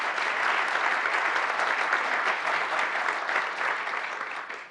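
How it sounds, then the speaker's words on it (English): Steady, dense clapping from a forum audience, moderately loud and even, tapering slightly at the end, with no voices. "Please give this group a nice big round of applause."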